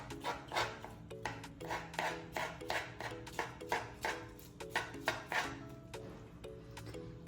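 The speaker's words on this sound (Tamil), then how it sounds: "இப்போ எல்லாத்தையும் கட் பண்ணிடுவோம்." Bamboo shoot being chopped into small pieces with a knife on a board, a steady run of sharp, close cutting strikes in quick rhythm, with faint background music tones underneath.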